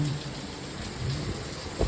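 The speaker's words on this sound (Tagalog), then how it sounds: "Ang lakas ng ulan." Steady, dense rain pouring down, a constant hiss throughout with a low thump near the end.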